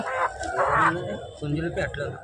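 Chickens and chicks cluck and cheep at a busy village market in Gokavaram, East Godavari, the close bird calls mixing with the voices of people talking nearby.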